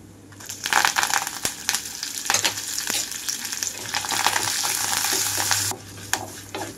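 Mustard and other tempering seeds with curry leaves crackle and sizzle steadily in hot oil in a home kitchen, a dense close spitting hiss with sharp pops and a brief stir, fading out near the end.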